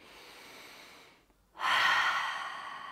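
A slow breath is drawn in during seated chair yoga and followed by a brief pause. Then comes a loud, airy exhale through the mouth that gradually fades.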